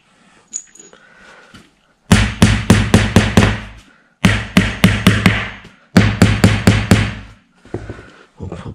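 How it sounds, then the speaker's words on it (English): Wooden dowels are hammered into an IKEA Gnedby shelving unit in three loud, close bursts of rapid, evenly spaced hammer blows, each burst about six strikes long, with short pauses between. "Put the wooden dowlies in."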